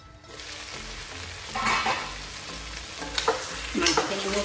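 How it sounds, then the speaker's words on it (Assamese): Pork and taro fry in a covered pan, giving a steady close sizzle and crackle with a few louder spits and bursts, and no talking. "এতিয়া ঢাকনাখন মাৰি দিওঁ এইখিনি অকণমান সময় ভাজি লওঁ"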